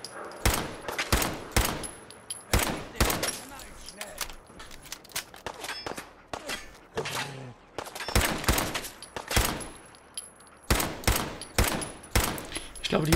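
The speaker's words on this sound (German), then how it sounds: "Mann, schieße ich nur gegen das Tor?" Repeated gunfire from a weapon in Fallout 4, sharp shots fired in quick bursts and single cracks across the stretch with short pauses between, loud and close.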